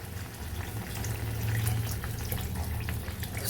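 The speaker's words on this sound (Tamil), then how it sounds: "இப்போ அதுக்கு தேவையான அளவு நம்ம தண்ணி விடுறோம்." Water splashing and pouring into a pan of sautéed tomatoes for rasam, a soft continuous gush close by with faint bubbling.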